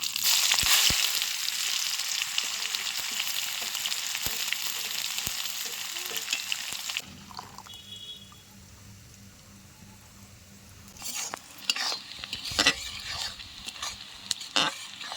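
Chopped onions fry in hot oil in a pan for Bengali morog polao, first with a loud, dense sizzle, then a quieter bubbling, with sharp scrapes and clatters as a spoon stirs them near the end.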